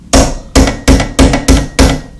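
Six sharp hammer taps, evenly spaced about half a second apart, ring out loud and close as a U-joint is driven into a driveshaft yoke, no voices.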